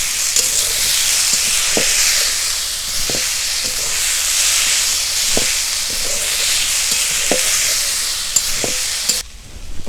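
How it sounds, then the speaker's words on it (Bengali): Salt, chilli powder and turmeric powder sautéing in a hot pan, a loud continuous sizzle with regular stirring scrapes roughly every second, cutting off sharply just before the end. "স্বাদ মতো লবণ, লঙ্কার গুঁড়ো, হলুদের গুঁড়ো, ভালো করে একটু কষে নেব।"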